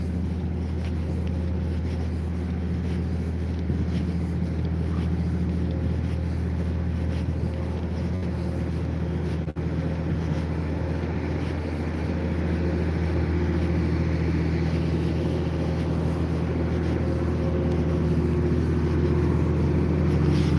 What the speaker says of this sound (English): What we can hear is the tractor.